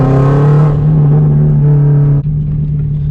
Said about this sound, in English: Listen to this 20G turbo